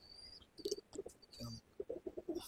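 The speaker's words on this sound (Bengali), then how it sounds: "এই হচ্ছে বাবুদার পায়রা, ঘরের সেট আপটা দেখি নাও।" Pigeons coo quietly in a pigeon loft: faint, low murmuring calls in short rhythmic bursts, with some thin higher chirps and soft background sounds around them.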